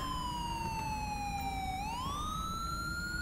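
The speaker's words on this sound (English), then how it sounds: "Sheriffs are running their sirens." A police siren wails steadily in the LSPDFR video game, its pitch sliding down and then sweeping back up, heard alone with no talk over it.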